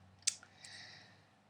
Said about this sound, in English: I'm going to cut them